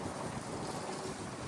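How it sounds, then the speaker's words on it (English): Wind buffeting a microphone outdoors on a windy day, a steady broadband rumble and hiss that fills the short stretch without a break, no talk over it. "Sorry if you hear a lot of wind,"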